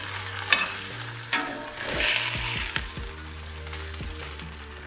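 Steak searing in a hot cast iron pan, a steady bright sizzle with a few sharper crackles and scraping moves as the meat is pressed down, close and continuous with no talking.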